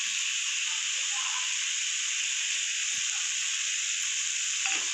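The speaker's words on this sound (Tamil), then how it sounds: "மீடியம் ஃப்ளேமில் வச்சு நல்லா வதக்கிக்கணும்." Onions with red chili powder sautéing in a pan over a medium flame make a steady, even sizzle and hiss throughout, with faint stirring bumps near the end and no voices.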